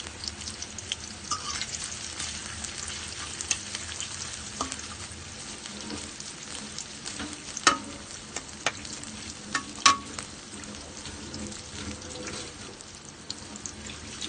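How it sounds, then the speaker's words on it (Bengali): Chopped onions frying in a pot for a rohu fish-head and bottle gourd curry: a steady, close sizzle with occasional sharp clicks and knocks of a spoon stirring, no voices. "হাঁড়িতে পেঁয়াজ দিয়ে দিলাম"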